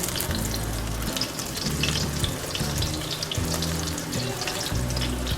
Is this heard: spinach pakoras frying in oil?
yes